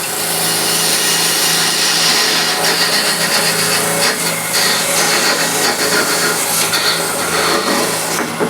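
Wood lathe spinning as a gouge hollows the base of a wooden bowl, a loud continuous rough scraping and hiss over a steady motor hum.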